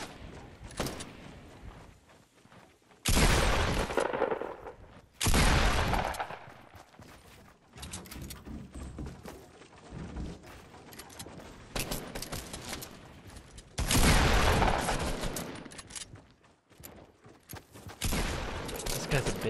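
Pump shotgun blasts in the Fortnite video game ring out in several loud separate bursts spaced a few seconds apart, with quieter game sounds and footsteps between them and a voice talking.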